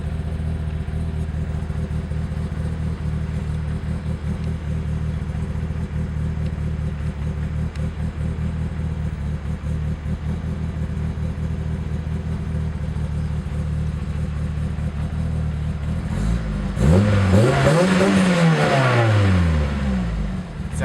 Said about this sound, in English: It sounds a lot quieter now after I fixed all those leaks.